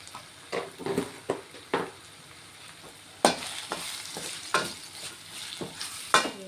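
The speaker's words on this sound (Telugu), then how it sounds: "ఒక రెండు నిమిషాలు ఫ్రై అవ్వనిస్తాను ఇవన్నీ" Onions with coriander powder and other spices frying in a pan for an onion egg fry: a crackling sizzle punctuated by repeated scraping stirs of a spatula, with sharper bursts in the second half.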